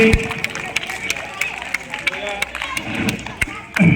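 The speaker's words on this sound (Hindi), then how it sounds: "बहुत तालियां बजाइए।" Scattered audience claps ring out at a Republic Day flag hoisting ceremony at Darul Uloom, sharp individual hand claps popping over a murmur of crowd noise and talk, with a louder burst near the end.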